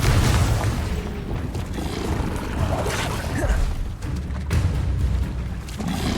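A Confringo fire spell explodes in Hogwarts Legacy, a loud booming blast with rumbling low end amid continuous game combat noise and other spell effects.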